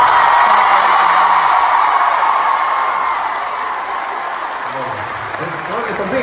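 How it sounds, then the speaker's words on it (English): Concert crowd applauding and cheering loudly for the show's crew, a dense sustained roar of clapping with scattered whoops that slowly fades, with a voice speaking over it near the end. "Let's do another round of applause for our crew"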